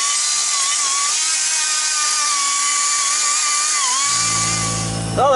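A power tool chamfers metal during a coilover install, a steady high-pitched whirring grind close up that shifts in pitch, with a lower rumble entering near the end.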